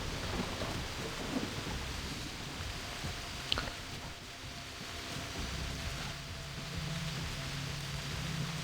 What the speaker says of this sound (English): I don't like the thunderclap, but hey.